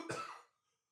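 One short, sharp cough, close and clear, fading out quickly with nothing else around it.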